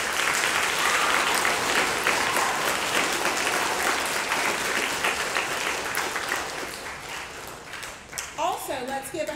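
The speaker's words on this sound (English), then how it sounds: "give a hand of applause for all of our employees" Applause from the audience at a school awards day, loud and steady clapping that gradually thins out toward the end, where a voice begins speaking over the last scattered claps.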